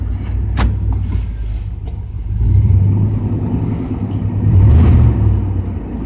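A 1989 GMC truck engine with an abnormal noise runs in a loud, steady low rumble, swelling slightly twice, heard close with no talk.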